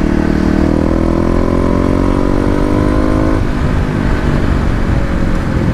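A Kawasaki KLX250 motorcycle engine pulls loud and steady after an upshift, its whine rising in pitch before settling into a constant drone with road noise.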